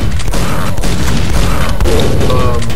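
Rocket explosions in the game Quake boom loudly and close in a dense, nearly continuous barrage of heavy blasts and thuds, with no break in the roar.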